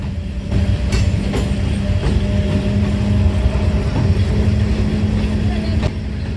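Train running on a single-line railway section between Ferozepur and Jalandhar in foggy weather, with a steady loud rumble, a low hum and rhythmic clicks from the wheels throughout, close by.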